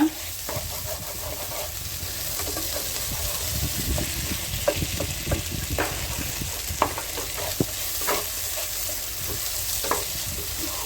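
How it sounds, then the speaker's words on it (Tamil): Squid chilli fry sizzling in a pan, a continuous close sizzle with scattered sharp clicks and scrapes of stirring throughout. "நல்லா இதை ஃப்ரை பண்ணுங்க"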